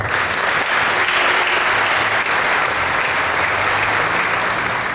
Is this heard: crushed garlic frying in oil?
no